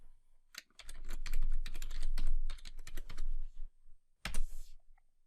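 Rapid bursts of keystrokes on a computer keyboard as a password is entered, clattering in quick clusters with short pauses and a final flurry near the end, close and clear with no talking.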